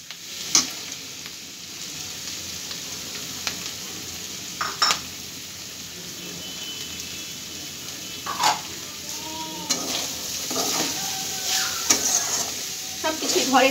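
Seeds and boiled potatoes added to frying organic home-grown vegetables in a pan: continuous close sizzle with stirring scrapes and clinks of a spoon, sharper crackling bursts toward the end, with a brief voice.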